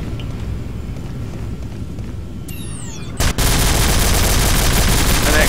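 Gunfire in the video game Nuclear Dawn, a sudden loud dense burst that kicks in around the three-second mark and keeps going steadily to the end, after a quieter stretch of low rumbling ambience and a brief sweeping whine.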